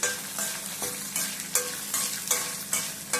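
Green chillies frying in a pan for a curry-leaf chutney, a constant close sizzle broken by regular scraping stirs about every half second.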